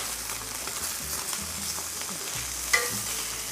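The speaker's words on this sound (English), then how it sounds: "I'm gonna flip over this Spam." Spam slices fry in a pan, giving a steady, close, crackling sizzle with light stirring and one brief sharp clink partway through, no voices.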